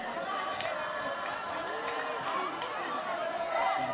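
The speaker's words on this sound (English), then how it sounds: "They are in full song, cheering their side on." Rugby supporters at a Bulawayo versus Hippo Valley match in Zimbabwe sing and cheer as a continuous, moderately distant crowd roar, with a commentator talking over it.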